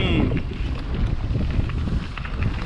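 Strong wind buffets the microphone while mountain biking on a Sedona trail, a loud, continuous low rumble with gusty fluctuations that fills the whole stretch.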